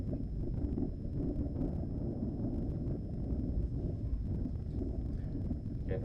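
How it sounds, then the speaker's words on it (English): Gusty wind on a hilly disc golf course buffets the microphone as a dense, low rumbling roar, close and steady throughout with small flutters and no talking. "Getting really windy on this upshot."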